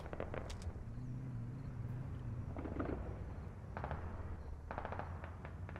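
Scattered gunshots from a Squad multiplayer match crack out in short bursts over a steady battlefield rumble, a few distant single shots followed by tighter clusters of rapid fire near the end.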